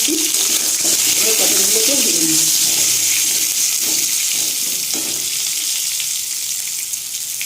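Pointed gourd (potol) slices frying in hot oil in a pan, giving a steady, close, broadband sizzle that holds throughout, with a few soft low sounds near the start.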